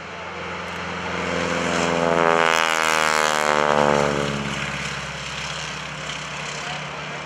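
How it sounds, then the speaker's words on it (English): A Super Stearman biplane passes at an airshow, its radial engine droning louder as it approaches, peaking with a strong propeller roar, then easing off as it moves away. "Our Super Stearman."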